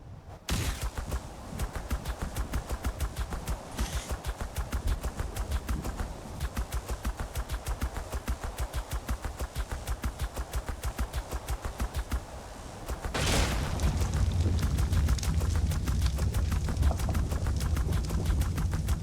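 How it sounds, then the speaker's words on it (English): A phase pistol fires in Ark: Survival Evolved on the Ragnarok map: rapid, evenly spaced shots in long rattling bursts with brief gaps, then a louder, denser stretch of sound near the end. "Let me show you what you can do with the phase pistol."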